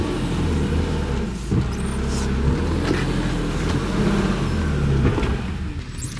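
A BMW E36 M3 Evo with individual throttle bodies and a six-speed, driven on the road, its engine droning steadily at close range with rising and falling rev pitch throughout.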